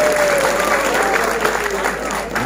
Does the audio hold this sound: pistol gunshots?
no